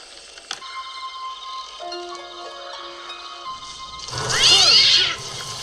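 A cat suddenly leaps out and screeches in a scene from the 1989 horror film Pet Sematary. A loud, wavering yowl erupts for about a second after quiet sustained tones and a single sharp tick.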